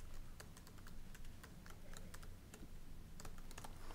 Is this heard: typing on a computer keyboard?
yes